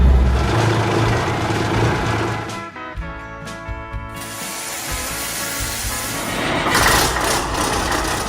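Smokey and the Bandit tribute truck engine cranking, with a loud mechanical ratcheting turnover that stops, a brief pause, then a rough idle that builds and settles, heard close up.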